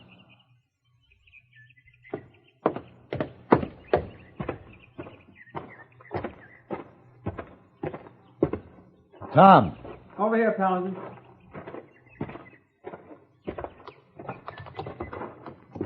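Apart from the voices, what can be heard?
horse moving and being saddled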